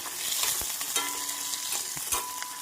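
Onions sizzling steadily in a hot pan, with the spatula scraping and tapping at intervals, close by.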